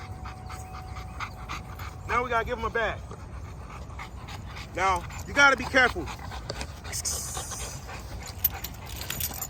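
An XL Bully dog pants heavily near the listener, rapid breathy puffs mixed with short whimpers, while someone talks over it.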